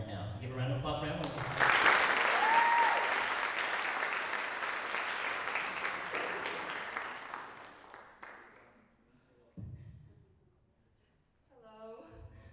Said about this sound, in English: So give a round of applause for Emily.